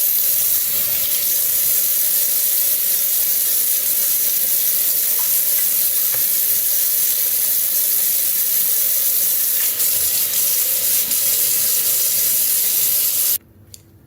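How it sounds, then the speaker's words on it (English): Water runs steadily from a tap while sinks and surfaces are washed down, a loud, continuous hissing splash that stops abruptly near the end and leaves a quiet room. "I'm going to sterilize my sinks and all my surfaces and wash those all down"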